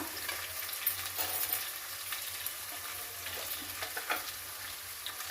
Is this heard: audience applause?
no